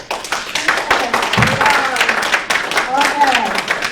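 An audience at a 2022 Great Neck Library candidates forum applauds after a closing statement, a dense scattered clapping from a room full of people, fairly loud and steady for several seconds.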